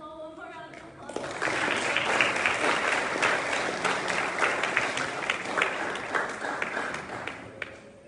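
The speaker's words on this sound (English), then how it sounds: "Let's give them all one more round of applause." After a brief murmur of voices, applause from an audience at a Miami charity event swells into a dense, sustained wash of clapping that holds steady before tapering at the end.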